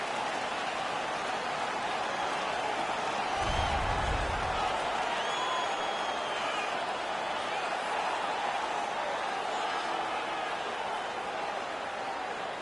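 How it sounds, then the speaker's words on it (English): A home crowd in an indoor hockey arena roars and cheers continuously, a dense wash of voices filling the space, with a brief low thump partway through. "The home crowd is ecstatic. They're making all kinds of noise."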